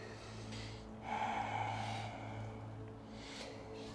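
During Ashtanga yoga practice, a practitioner draws a single audible breath, a close nasal inhale and exhale with a rushing, slightly snorting quality over a low background hum.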